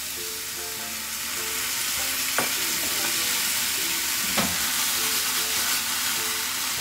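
Bitter melon stir-fried with sugar and soy sauce sizzles loudly and steadily in a pan, with a couple of sharp utensil clacks and scraping stirs over the continuous hiss.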